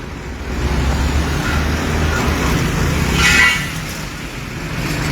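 Congested road traffic in Panaji, a dense rumbling wash of idling and creeping vehicles with a brief horn toot, heard steadily from nearby without talk.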